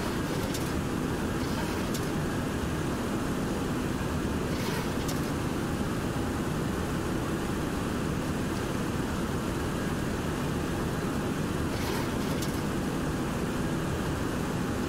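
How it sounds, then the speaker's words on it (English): Simulated jet engines of a Boeing 727 in flight hold a steady, unbroken broadband roar throughout, with only faint ticks over the drone, on an X-Plane 11 visual approach from Washington National to LaGuardia. "Just love the sound of those engines."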